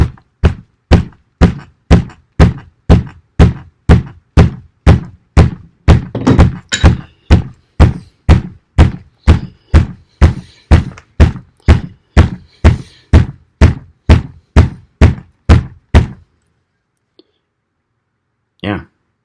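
A Spartan Blades Alala knife strikes into a knot in wood, making around thirty loud, evenly spaced chopping thunks in a steady rhythm that stop abruptly, with one faint knock afterward.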